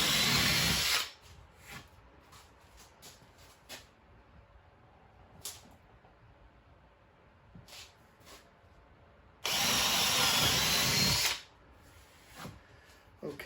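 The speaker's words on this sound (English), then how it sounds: "So I've got my drill, 5/16 bit again, and my Forstner bit" A power drill fitted with a 5/16 bit and a Forstner bit bores holes in a wooden board for a tool cabinet. It whines loudly in two separate bursts, with quieter handling noises in between.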